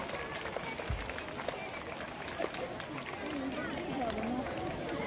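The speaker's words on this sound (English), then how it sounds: "I request everyone to keep applauding for them." An audience at a school investiture ceremony keeps clapping in a steady scattered patter, with sharp individual claps standing out and people talking over the applause.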